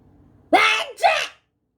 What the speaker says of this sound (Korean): 그때 공교롭게도 피터가 요란하게 재채기를 했고